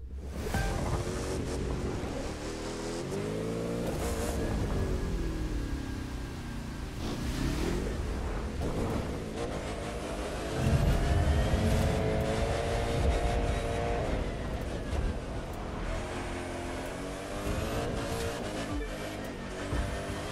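Racing cars in The Crew 2, engines droning and rising and falling in pitch as they accelerate and shift through gears, a dense continuous roar with wind and road noise throughout, no talk.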